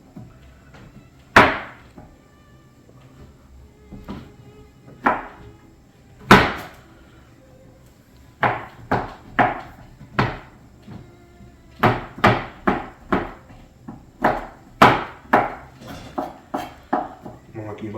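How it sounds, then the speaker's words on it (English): Knife chopping chocolate on a wooden board in a kitchen, heard as sharp irregular knocks, scattered at first and then in a quicker run of close, crisp strikes with quiet gaps between. "Now that I've finished chopping up the chocolate"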